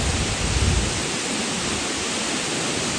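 Samrong Kiat waterfall in Sisaket, Thailand, gives a steady, loud rush of falling water that fills the whole clip, with a brief deeper rumble near the start and no voices.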